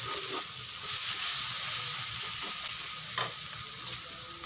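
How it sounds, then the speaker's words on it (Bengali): Tomatoes and peas go into chicken kosha frying in a pan, giving a steady sizzle and hiss with a few stirring scrapes and clinks, close and moderately loud, no voices. "টমেটো আর মটরশুঁটি দিয়ে দিচ্ছি"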